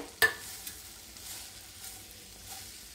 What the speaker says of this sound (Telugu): ఇప్పుడు మనం కడాయి పెట్టుకున్న అందులో కొద్దిగా ఆయిల్ వేసుకున్న తర్వాత కట్ చేసి పెట్టుకున్న బెండకాయలను వేసుకోవాలండి.